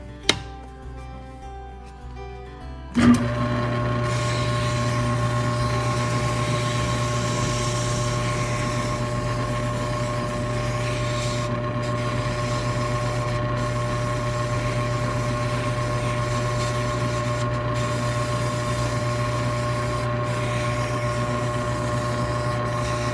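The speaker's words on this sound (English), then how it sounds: "we can use the drum sander to sand out this arch." After a brief quiet start, a drum sander spins up abruptly and holds a steady, loud droning whir for a long stretch while sanding a wooden cabinet arch.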